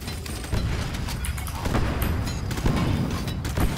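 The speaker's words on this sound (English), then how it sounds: "I hear explosions." Deep Rock Galactic gameplay with loud, dense booming explosions and rumbling blasts in a continuous barrage, heavy low-end thuds recurring throughout.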